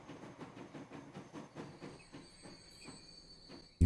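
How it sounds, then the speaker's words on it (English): A game train rolls into a station with a steady clickety-clack of wheels over rail joints, moderately close and fading slightly before a sudden loud burst at the very end. "And here comes our train."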